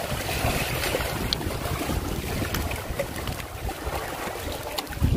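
A speedboat running across the water of Gangrel Dam in Chhattisgarh gives a continuous engine drone mixed with wind buffeting and splashing waves, steady and fairly close throughout.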